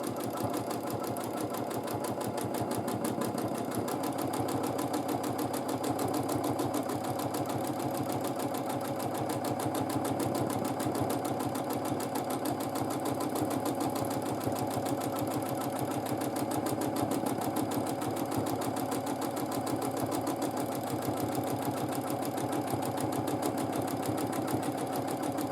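A sewing machine running free-motion quilting stitches with colourful thread through white fabric: a steady, rapid mechanical hum and tapping that carries on unbroken throughout, close and alone with no talk.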